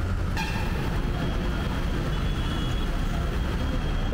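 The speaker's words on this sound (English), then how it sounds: "All right, guys, so I'm inside the metro." A metro train runs in Chennai, heard from inside as a steady, loud rumble and roar of the moving carriage with a brief high tone near the start.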